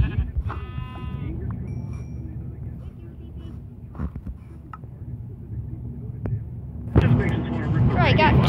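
A sheep bleats a few times in Minecraft over steady low background music and hum, with a louder burst of game noise near the end.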